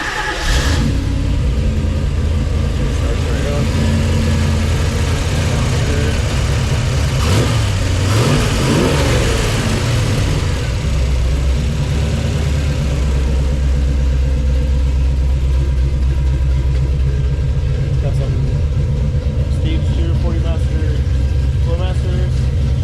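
A 1962 Ford Falcon with a fuel-injected engine and Flowmaster exhaust fires up and runs loud and close, settling into a steady idle with brief revs and a continuous deep rumble.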